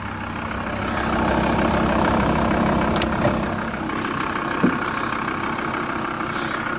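A 2004 Volkswagen LT46 van's belt-driven engine idles with a low, even rumble throughout, accompanied by faint clicks and a brief knock near the end.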